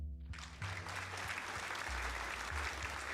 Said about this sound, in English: I really do need a clapping sound effect that is just for one person. It sounds like a whole crowd.